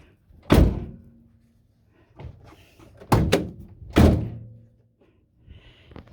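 A heavy van door thunks shut several times, with handle clicks and latch rattles in between, close and loud.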